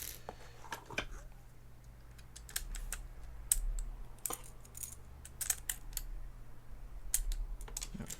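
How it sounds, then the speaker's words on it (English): Keycaps on a computer keyboard are pried off with irregular sharp plastic clicks and snaps over a low steady hum, close up, without talk. "Okay, so looks like I need to take these two keycaps off."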